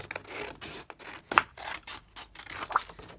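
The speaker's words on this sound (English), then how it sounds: "So I'm just going to cut this down here." Scissors cut a sheet of paper for a craft project, with soft, close snips and rustling scrapes in an uneven rhythm; quiet overall, no talking.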